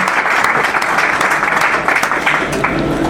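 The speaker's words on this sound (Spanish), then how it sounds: "aplauso para ti" A studio audience on a Spanish-language paranormal radio show breaks into loud, steady applause for a guest, an even wash of many hands clapping close by.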